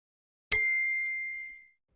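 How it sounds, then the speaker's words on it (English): A single bright bell ding from a children's song about morning bells rings out clearly on its own and fades away over about a second. "Morning bells are ringing."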